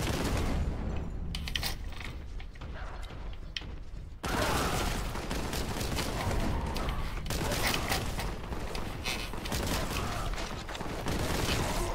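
Gunfire in Warhammer 40,000: Boltgun hits exploding barrels, with a run of scattered shots, then a loud sudden blast and dense continued firing and crashes, close and busy, with no talk.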